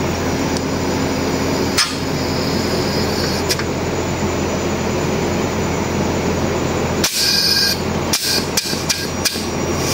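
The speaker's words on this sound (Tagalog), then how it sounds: "Antay lang natin bumomba ang compressor." A Daikin air conditioner outdoor unit with an A0-11 error, run without its gas sensor, with the compressor droning in a loud, steady, close hum. Several sharp metallic knocks break in near the end.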